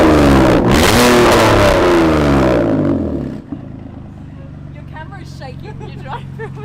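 A BMW Hommage 328 concept car engine revs up with a sharp rising whine, then drops into a deep, rumbling growl as it settles to a steady idle.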